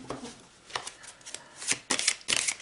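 Tarot cards being shuffled in quick riffling bursts, loud and close, coming in uneven clusters with brief pauses between and no talking.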